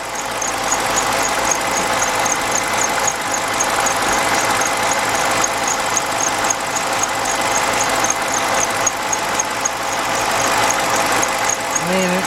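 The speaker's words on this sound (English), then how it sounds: "I hear a very faint squeal." A BMW 545i V8 idling after a water-cooled alternator replacement gives a steady, continuous engine drone with a faint, thin high squeal running throughout, without letup.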